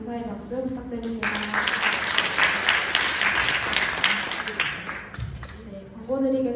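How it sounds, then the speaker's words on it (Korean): A church congregation at a university semester-opening service applauds the chaplain, a full, sustained round of clapping from many people lasting several seconds, with a voice speaking briefly before and after. "말씀 전해주신 교무님께 큰 감사의 박수 부탁드립니다."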